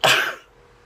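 A single loud, close sneeze bursts out and trails off within half a second, one of a fit of repeated sneezes.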